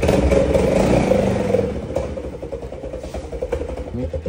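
A motorcycle engine revving outdoors, a loud rising roar at first that settles into a rougher idling rumble with clattering mechanical pulses, in windy open air.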